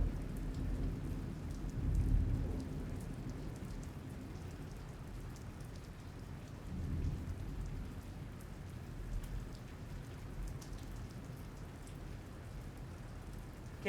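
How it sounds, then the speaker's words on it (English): Steady rain patters on surfaces during a lightning storm while low thunder rolls faintly in the distance, swelling briefly twice under the continuous wash of rainfall. "Just some big thunder."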